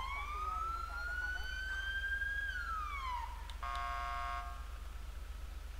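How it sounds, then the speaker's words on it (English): A police car siren from GTA 5 with the LSPDFR mod, heard while playing as a Blaine County sheriff on night patrol. It sweeps up in a long wail, drops, then switches to a steady pulsing yelp, loud and alone over a constant low engine hum. "Seat belts on, and for our siren, it is this one."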